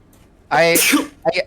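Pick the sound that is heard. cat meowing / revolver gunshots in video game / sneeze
sneeze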